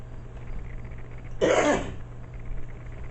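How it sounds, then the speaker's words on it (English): A single sharp cough rings out close by over a low background hum, brief and alone. "That's a cough."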